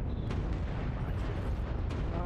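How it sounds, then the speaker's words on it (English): Heavy artillery explosions in a mech combat video game roll out as a dense, continuous low rumble of booms close and loud, with a faint game voice barely present. "Artillery strike activated."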